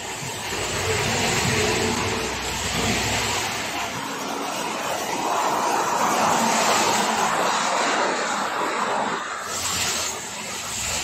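A rice mill engine runs after an oil change, giving a loud, continuous droning roar with a slight swell in the middle and no talk over it.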